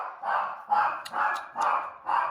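A dog barks five times in a steady rhythm, each bark loud and close, alone with no talking.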